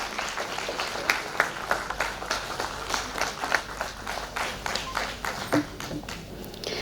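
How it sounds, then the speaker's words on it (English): Applause from an audience welcoming musicians at a music event and book launch, a continuous patter of many hands at moderate distance, fairly even throughout, with a faint low hum underneath. "Please welcome them with a big round of applause"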